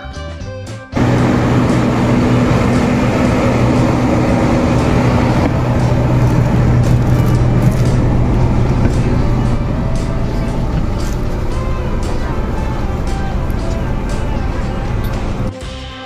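A Teguh Muda Jetbus 5 bus drives along, a steady loud engine drone and road rumble that starts abruptly and continues unbroken throughout the trip.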